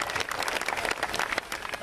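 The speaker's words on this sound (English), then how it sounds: "Please give a round of applause to our birthday friends." At a 95th birthday party, a crowd applauds the birthday guests with brisk, continuous clapping that stays loud and even, with a few voices in the mix.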